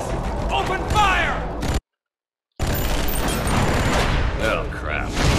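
Gunfire in the video game Borderlands: The Pre-Sequel: dense, loud bursts of shooting and impacts mixed with game effects, cut by a brief total dropout before the firing resumes just as heavily.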